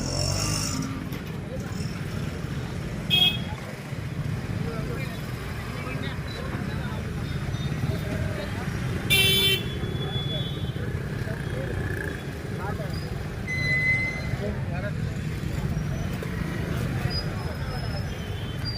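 Congested city road traffic near a crowded shopping street rumbles steadily throughout, a dense wash of engines and vehicles with occasional horn-like tones, while people talk nearby over the din.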